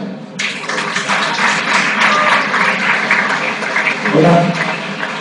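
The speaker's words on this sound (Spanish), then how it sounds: "Un fuerte aplauso, por favor." Applause from an audience at an innovation and sustainability project event for a speaker, a loud, continuous crowd clapping in an indoor hall, beginning abruptly and holding steady.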